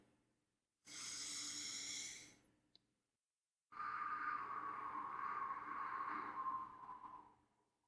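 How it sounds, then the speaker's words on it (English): Slow, deliberate breaths are drawn in and then pushed out as a breathing exercise is shown, two long airy breaths separated by silence, close and loud. "that wasn't exactly a slow breath from my nose"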